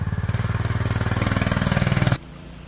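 A Stretch Bilt Hard 212 mini bike engine runs close and loud in snow, a rapid pulsing thump that rises in pace as it revs, then cuts off suddenly, leaving a low background rumble.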